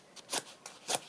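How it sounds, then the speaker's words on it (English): A Tim Holtz distress tool scrapes along a paper edge, giving a few short dry rasping strokes in quick succession, close and fairly quiet. "I'm going to distress it with my Tim Holtz distress tool"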